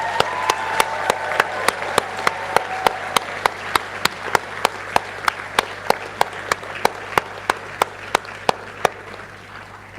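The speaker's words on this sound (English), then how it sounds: "give them a huge cheer and a round of applause" Graduation ceremony audience applauding steadily throughout, a dense wash of clapping punctuated by regular sharp clicks, with a low steady hum underneath and no clear cheering voices.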